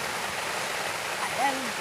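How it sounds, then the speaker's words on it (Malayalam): Steady rain hiss fills the short clip, even and continuous, with a faint voice briefly rising near the end. "അവിടെ മഴ ഒന്ന് നിൽക്കേ മഴയാണ് കേട്ടോ"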